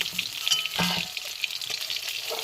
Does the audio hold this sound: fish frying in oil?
yes